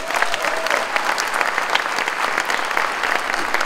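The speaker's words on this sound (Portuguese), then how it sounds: "Vamos aplaudir a Jesus." A church congregation applauds at an evening service, a dense, steady wash of clapping from many hands filling the room without pause.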